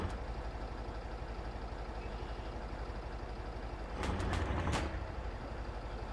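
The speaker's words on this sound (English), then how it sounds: "I'm trying to move the truck and that is not a pleasant sound." A truck engine strains in Spintires: MudRunner, a steady low drone throughout, then a rough burst of sharp popping and crackling bangs near the end, loud and close.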